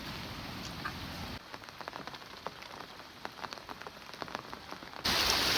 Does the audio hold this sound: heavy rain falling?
yes